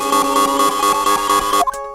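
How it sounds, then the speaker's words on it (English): A buzzer from the video game Phoenix Wright: Ace Attorney gives off a loud, rapidly pulsing electronic alarm tone that repeats steadily, then cuts off abruptly near the end. "The killer clobbered Mr. Light and sounded a buzzer."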